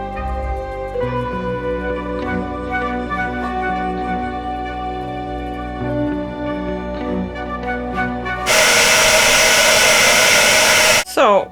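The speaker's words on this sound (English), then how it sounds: "I might have to bust out the hairdryer." Tonal background sound plays for several seconds, then a hair dryer switches on with a loud, steady roar and cuts off after a few seconds.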